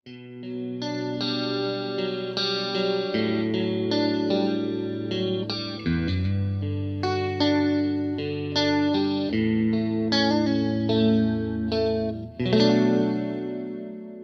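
Clean electric guitar playing a melodic chordal passage through a Fender Bassman amp with a shimmering, slightly chorused tone, sustained and full, no voices.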